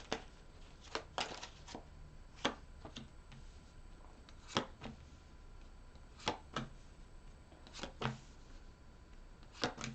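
Tarot cards are shuffled close up, a series of soft, crisp riffling bursts and taps spaced irregularly over a quiet background.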